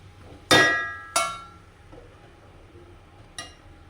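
A metal lid goes back onto a cooking pot of plantain and potato curry, with two sharp close clanks in quick succession, a faint rattle, then a lighter clink after a pause.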